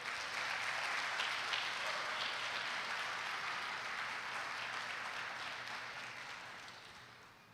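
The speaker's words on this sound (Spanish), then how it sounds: "Bríndale un aplauso a Dios." A church congregation applauds in a long, steady burst of many hands clapping together, fairly distant and even, slowly tapering off toward the end.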